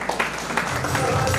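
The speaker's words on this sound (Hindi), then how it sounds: "दोस्तों उनके लिए भी जोरदार तालियां जानी चाहिए।" Audience at a network marketing business seminar in India claps and cheers, a dense burst of applause running steadily through the short stretch.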